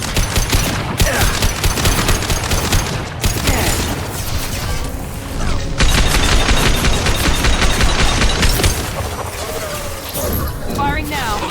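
Weapon gunfire in Mass Effect 2, dense rapid bursts and mechanical clatter running almost continuously at high volume, with voices speaking over the shooting.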